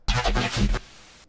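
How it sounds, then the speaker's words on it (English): A short, gritty resampled neurofunk bass phrase pulses in a few rhythmic hits, then cuts off into a brief fading tail. "our final resampled bass, which is the response bass"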